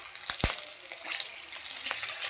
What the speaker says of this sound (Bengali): দেখো এই যে লঙ্কার গাগুলো আধ ভাজা হয়ে গেছে